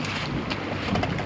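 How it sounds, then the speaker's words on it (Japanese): A dive boat approaches on the open sea off Saipan, heard as a steady broadband rush of engine, water and wind buffeting the microphone, close and continuous with no talk. "僕らの乗るボートがやってきました。"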